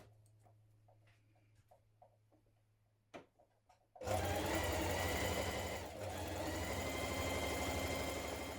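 A sewing machine sews blouse seams at a 1.5 centimetre seam allowance, starting abruptly after quiet handling clicks and then running loud, close and steady for several seconds with no talking.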